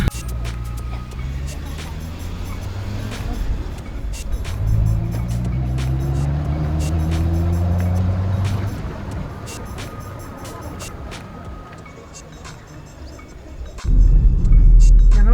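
A car drives along a road in Wayanad, the engine hum rising and falling through gear changes with faint rattles inside the cabin, ending in a louder rush of road noise.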